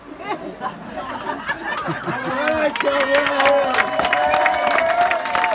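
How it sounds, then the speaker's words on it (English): A wedding reception crowd breaks into applause after the best man's speech, with clapping swelling from light scattered claps into a full, steady round, mixed with cheers, laughter and chatter. "Round of applause there for Kieran Conway."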